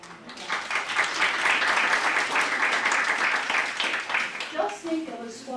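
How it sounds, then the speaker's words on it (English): An audience at a Power Squadron change of watch ceremony claps in a sustained round of applause that swells and then fades, with a voice speaking as it ends. "Give yourself a round of applause."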